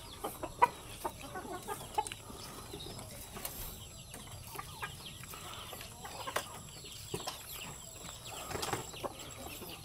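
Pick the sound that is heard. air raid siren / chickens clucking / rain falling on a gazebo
chickens clucking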